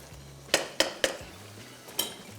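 A spoon clinks against a cooking pot while Bihari mutton is stirred, four or five sharp metallic knocks spaced irregularly over a low stovetop hiss, with no voices.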